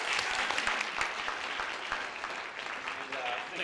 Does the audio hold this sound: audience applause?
yes